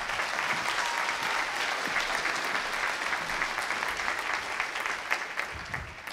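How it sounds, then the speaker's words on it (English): Audience at a Skepticon talk giving sustained applause, a steady wash of many hands clapping that continues for several seconds at moderate loudness, with a little speech mixed in. "Let's give her a round of applause."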